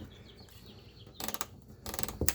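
A wrench loosens a bolt during a trailer hitch installation on a 2021 Chevrolet Traverse, giving two short bursts of metallic ratcheting and scraping close by, separated by quiet, with a faint clank at the end.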